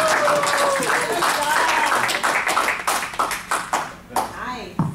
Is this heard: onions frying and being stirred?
no